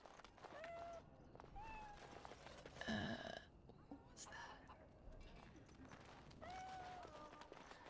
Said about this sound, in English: Yeah, hi, kitty cats.